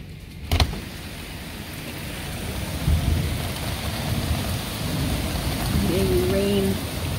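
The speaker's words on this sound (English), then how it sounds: "It's raining so hard." Heavy rain pours in a thunderstorm, a loud dense hiss that runs throughout, with a sharp crack early on and rumbling thunder underneath.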